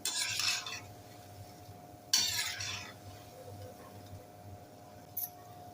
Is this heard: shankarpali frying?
yes